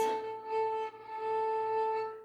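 A thin, airy violin note, bowed very lightly, held steadily for a couple of seconds with a soft, wispy surface.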